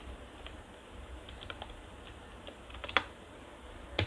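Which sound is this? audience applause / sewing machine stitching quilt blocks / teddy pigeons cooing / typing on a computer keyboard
typing on a computer keyboard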